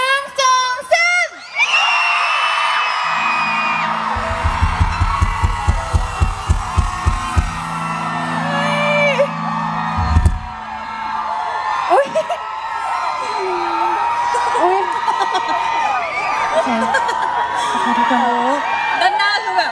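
Concert audience at a beach movie event with the band screams and cheers loudly on cue, a sustained roar of whoops and shrieks filling the space, with a count-in voice and rhythmic thumping near the start.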